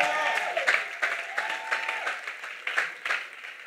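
Church congregation clapping and shouting praise during a prayer service, a loud, rhythmic burst of applause with acclaiming voices throughout.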